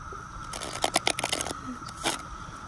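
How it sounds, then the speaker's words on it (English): A tarot card deck is shuffled, giving a run of soft papery riffles and scrapes over about two seconds, close and fairly quiet, with a steady faint tone humming behind. "Last shuffle."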